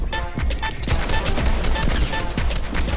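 Rapid, loud bursts of gunfire crackle continuously in a Fortnite match, with overlapping shots and impacts filling the whole stretch.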